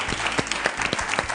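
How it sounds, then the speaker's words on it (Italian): Brief applause from a studio audience on an Italian television cooking show, a dense pattering of many hands with a few louder claps popping out, no voices. "Un applauso, glielo facciamo o no?"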